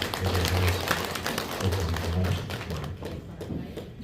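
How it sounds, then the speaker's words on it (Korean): A church congregation claps in encouragement, a dense patter of hand claps with rhythmic bursts that fades toward the end, while a voice speaks over it. "우리 찬양을 잘해주신 우리 3구역 다시 한번 우리 격려의 박수로"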